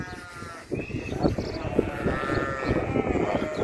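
Fattened sheep bleat during loading for slaughter, with several overlapping wavering bleats close by over scuffling hooves and pen noise.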